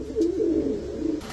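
A breeding pair of pigeons in a pigeon-seller's loft coo close by, a soft low rolling call that rises and dips over about a second, alone with no talk.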